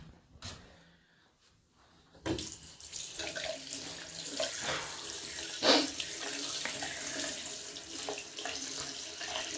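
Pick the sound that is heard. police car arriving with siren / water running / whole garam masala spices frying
water running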